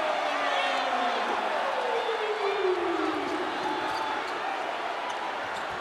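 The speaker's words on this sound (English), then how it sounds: "And listen to this crowd roar." A basketball arena crowd roars after a dunk in an ABL game, a loud, sustained wall of cheering under rising and falling whistles, with a commentator talking over it.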